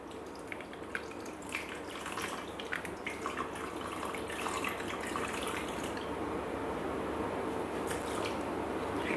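Water is poured into a Thermomix while making ginger honey biscuits, giving a steady splashing trickle with small drips, close and fairly quiet, with no talking.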